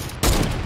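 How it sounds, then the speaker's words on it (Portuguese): Gunfire in Fortnite bursts in abruptly after a quiet moment, a dense loud volley that keeps rattling for the rest of the short moment with no talk over it. "Vou atirar nele"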